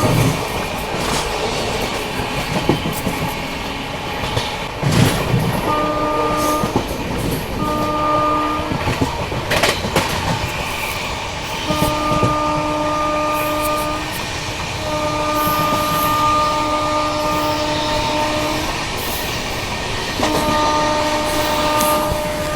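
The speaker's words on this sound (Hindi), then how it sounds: "overtaking Barauni Gondia express" The Barauni Gondia Express overtakes on the rail line, its loud rolling rumble and clatter carrying throughout, with repeated long horn blasts sounding in several spaced bursts.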